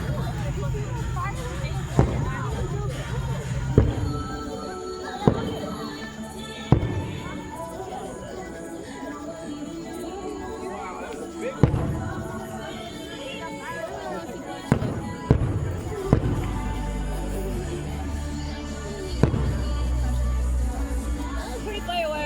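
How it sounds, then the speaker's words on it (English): Fireworks burst at a Dollywood show in Pigeon Forge, Tennessee, as a series of loud, sharp booms at irregular intervals echoing over a murmuring crowd, with people chatting nearby between the blasts. "Pretty fireworks."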